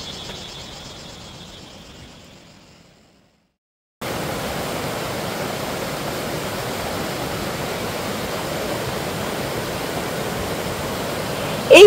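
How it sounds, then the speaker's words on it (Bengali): A waterfall at Fish Point in Mainpat gives a steady, even rush of falling water. It is faint at first, drops to near silence, then returns louder and constant. "এই ফিশ পয়েন্টে একটা খুব সুন্দর জলপ্রপাত রয়েছে।"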